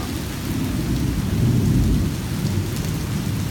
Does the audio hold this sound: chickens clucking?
no